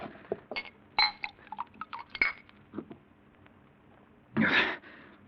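Drinking glasses handled in a 1952 radio drama scene, scattered light clinks and taps of glass and tableware, faint and close, ending with a louder rustling clatter, no speech.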